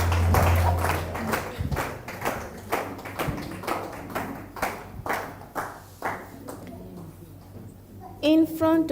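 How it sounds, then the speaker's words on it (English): Audience applause for a child contestant at a national schools agroecology poem-writing competition: a crowd claps in a steady burst that gradually thins into scattered claps, with a brief voice at the end. "A round of applause for Hannah."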